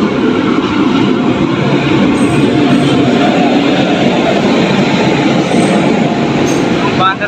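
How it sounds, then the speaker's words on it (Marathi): A train rolls past Bhilwara station, close and loud, with a dense, steady rumble of wheels and carriages that lasts the whole stretch without letting up. "आता तुमच्या समोर आली आहे एक ट्रेन"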